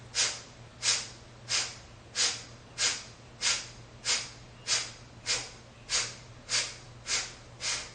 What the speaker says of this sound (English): We'll finish with some Kapalabhati. Forceful exhales.